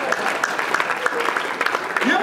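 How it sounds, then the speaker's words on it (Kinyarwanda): An audience at a live comedy show claps in a quick, uneven patter of many hands. The clapping is moderately loud and carries throughout, with a voice talking over it. "mujye mwiha amashyi n'imbagizi"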